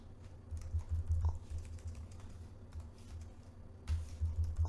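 Code being typed on a computer keyboard, a steady patter of soft keystrokes with a few louder taps, close and fairly quiet, with no talking.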